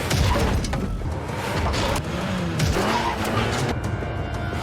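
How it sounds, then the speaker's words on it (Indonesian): Cars chasing and ramming each other on a highway, with roaring engines, tire squeals and skids, and a heavy crash thud partway through, loud and close. "Orang-orang ini berhasil menyusulnya dan menabrakkan mobil."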